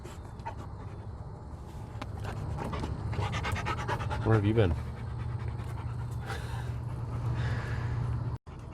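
A dog pants rapidly nearby, its quick breaths growing louder for a moment, while a person speaks briefly over steady outdoor background noise.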